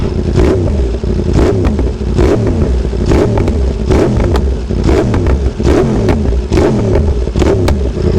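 A 2021 Yamaha R1 sport motorcycle with a Spark GP titanium full exhaust revs hard and repeatedly, loud and close, with rhythmic surges of throttle and a raspy, crackling note.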